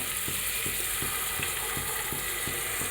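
A ground spice paste fries in a pan with a continuous loud sizzle, and soft, regular stirring scrapes repeat roughly every third of a second. No one speaks.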